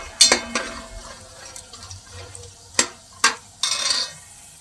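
Makhana (fox nuts) being stirred as they fry slowly in a pan over low heat, with a few sharp scraping clacks of a spoon against the pan over a faint, steady sizzle, close by and with no talk.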